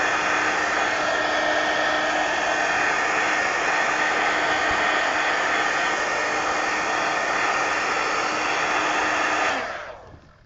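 A hair dryer blowing on paint in an altered book, a loud, steady close whoosh with an even whine that runs without a break, then cuts off and winds down at the end.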